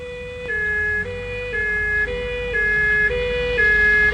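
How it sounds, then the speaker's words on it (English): Spacecraft warning alarm sounds as a loud, steady two-tone siren alternating between high and low pitches about twice a second, with no talk over it. "Sound all warning systems."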